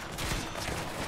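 Rapid submachine gun fire in the VR shooter Synapse on PSVR2, a dense, loud, continuous rattle of shots with no pauses across the short burst.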